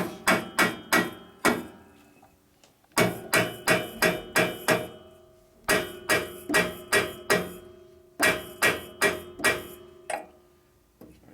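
Groups of sharp metallic strikes ring out close and loud, in quick bursts of four to seven hits with short pauses between, as a steel valve seat is cut on a 1965 Harley-Davidson panhead 74ci cylinder head. No one speaks.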